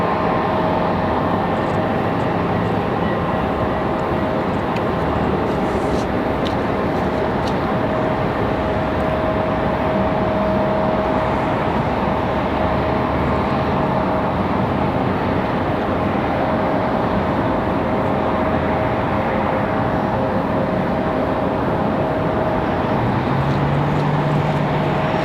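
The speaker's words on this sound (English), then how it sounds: "Should be a good sounding departure." An airliner departing Raleigh-Durham International Airport produces a loud, continuous jet roar with a steady whine, sustained for about twenty-five seconds without fading, with no voices.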